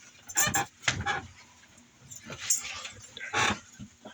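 A small dog whimpers and whines close by in several short, high bursts separated by brief pauses, with quieter stretches between cries.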